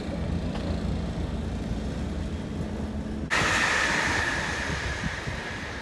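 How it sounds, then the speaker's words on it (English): An MTR K-train rumbles past near Tung Chung in Hong Kong, a low steady roar with wind buffeting, then a sudden brighter rush and rising whine as the cars sweep by close. "K train passing through."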